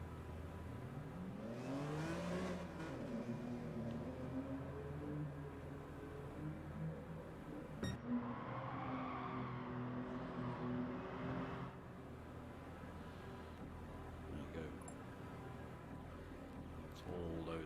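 Several saloon race cars circulate together at Kirkistown circuit in Northern Ireland, their engines revving and rising and falling in pitch as they mix on track, a continuous mid-level roar over about eighteen seconds.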